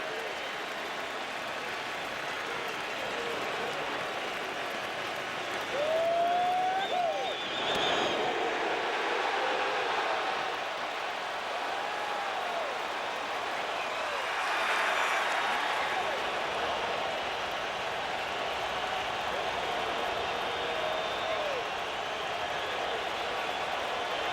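Baseball stadium crowd at a postseason playoff game, a broad steady roar of cheering with swells of louder applause, a wide wash of many voices blending under distant public-address sound.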